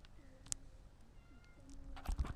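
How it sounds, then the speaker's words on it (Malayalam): A cat meows softly indoors at home, a few drawn-out, rising calls spread through a quiet room, with a louder thump or rustle near the end. "ഇടയ്ക്ക് പൂച്ച വന്നു കേട്ടോ"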